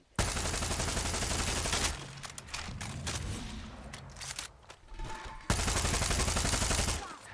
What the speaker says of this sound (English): the shots themselves don't sound super powerful. Well, I'm using a suppressor on this one.